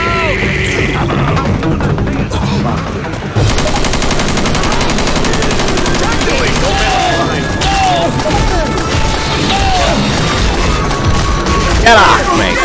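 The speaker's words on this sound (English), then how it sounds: "Watch where you're shooting!" Gunfire in Left 4 Dead 2 hammers on without a break as rapid automatic bursts and loud, close shots. Crashes and the shouts of in-game characters run over it throughout.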